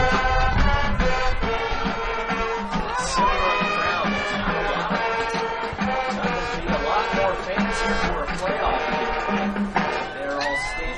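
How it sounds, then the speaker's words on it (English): A high school football crowd cheers on its team, the Blue Jays, in the fourth quarter of a Minneapolis, Kansas game against Cimarron. Dense, loud and continuous, with band music and shouts layered throughout. "cheering on their Blue Jays."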